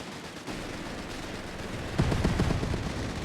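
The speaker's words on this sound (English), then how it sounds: "strafe the target area with autocannon firing line, effective against infantry and vehicles" Orchid Spider autocannon strafing run in Company of Heroes 3, a rapid rattle of automatic cannon fire that swells abruptly and sharply midway into dense, punchy bursts over a constant battlefield rumble.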